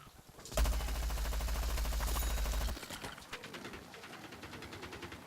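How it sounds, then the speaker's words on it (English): Golden Gatling gun from PvZ Garden Warfare firing a loud, sustained rapid burst for about two seconds, then a weaker stuttering stream of shots trailing off. "you can shoot and shoot and shoot and shoot, and you can just continue shooting until your gun overheats"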